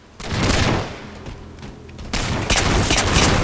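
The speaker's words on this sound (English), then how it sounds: "Trevor, why weren't you shooting at him before?" Loud, sustained gunfire from a Call of Duty game: rapid shots pile into a dense fusillade, ease off briefly in the middle, then surge back at full strength.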